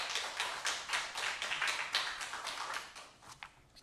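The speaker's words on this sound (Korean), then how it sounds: "하나님께 영광의 박수 올리겠습니다" Church congregation clapping together in praise, forming a steady rhythmic beat of loud, close claps at a brisk, even pace throughout.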